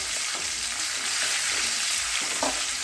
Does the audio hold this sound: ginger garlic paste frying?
yes